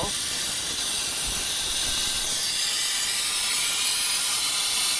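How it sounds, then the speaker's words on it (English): Air hose drawing a vacuum on the radiator cooling system of a CAT 305.5e2 mini excavator makes a steady, loud, high hiss that continues unbroken and alone. "we're sucking a vacuum and making sure there are no leaks"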